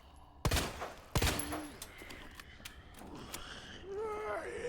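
Two sharp, loud gunshots ring out close together from a handgun fired into an enemy in Resident Evil 2 Remake, followed by creaking, clanking game sounds and a rising growl from the creature.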